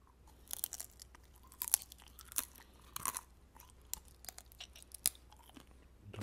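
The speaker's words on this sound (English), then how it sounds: "They are not as crisp as potato chips. They have a crunch, but they are more chewy." Beetroot chips being eaten, with irregular crunchy bites and chewing close to the mic, sharp crackling bursts spaced apart over a quiet background, with no talking.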